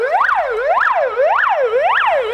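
Ambulance siren wails loud and close in a fast, regular rising-and-falling sweep, four full cycles, sounding alone over faint road traffic.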